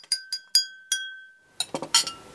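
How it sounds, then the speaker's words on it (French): Crystal glass struck several times, ringing clinks with a sustained clear tone, followed by a quicker cluster of clinks at close range, alone with no talk. "Un verre de cristal."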